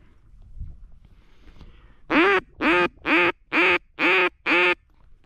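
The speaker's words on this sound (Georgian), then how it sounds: "იხვი მოდის" Ducks quack on the opening day of duck hunting season: six loud, evenly spaced quacks come in quick succession after a few seconds of quiet rustling and low handling noise.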